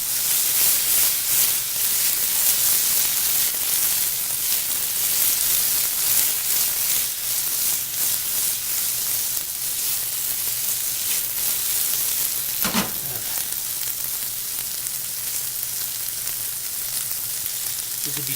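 Pistachios and pepperoncino frying in a pan for a pasta sauce, giving a steady, loud, continuous sizzle that runs unbroken, with one brief knock near the end.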